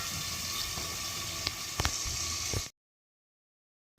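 Koi fish fry in hot oil in a covered pan, giving a steady, close hiss and crackle with a few sharp pops, before the sound cuts off abruptly.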